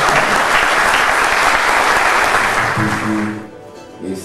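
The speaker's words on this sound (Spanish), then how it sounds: "aplauso, por favor." A conference audience breaks into loud, full applause that holds steady and then fades away within a few seconds.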